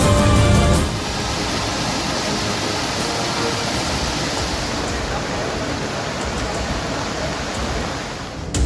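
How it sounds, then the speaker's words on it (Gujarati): Water from the overflowing Goldha dam in Gujarat roars in a steady, dense rush, loud and unbroken throughout with no voices. "ગોળધા ડેમ ઓવરફ્લો થતા નયનરમ્ય દ્રશ્યો પણ સર્જાયા"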